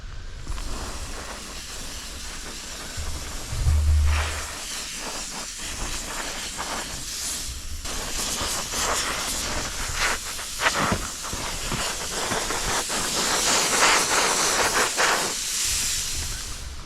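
A dry flake spray gun blasts metal flake onto a surface for a Rustoleum metallic finish, a long steady hiss of compressed air swelling and fading in bursts, close and fairly loud with no talking.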